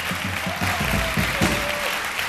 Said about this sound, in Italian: Non esagerate con gli applausi